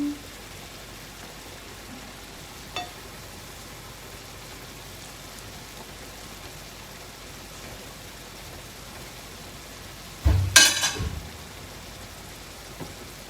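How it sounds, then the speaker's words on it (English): Honey garlic sauce with vinegar simmers around pork chops in a pan, giving a steady soft sizzle throughout, with one brief louder clatter near the end. "So honey, just let it simmer in."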